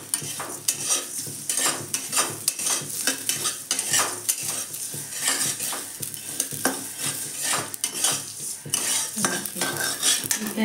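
Flattened rice (chura) fries with peas in a pan while a metal spoon scrapes and clinks against it in quick, irregular strokes over a soft, constant sizzle; no one speaks.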